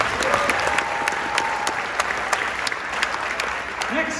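A high school band seniors event, with an audience clapping for a graduating band member, a steady wash of applause with crisp individual claps and a faint voice near the end.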